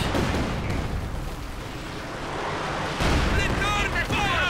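Katyusha rocket barrage crashing down in Company of Heroes 2, a sustained rumbling roar of explosions and artillery bursts, loud and continuous, with a caster talking over it.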